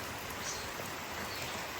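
Heavy rain falls around a house in a continuous, even hiss of dense drops, fairly soft and with no other sounds over it.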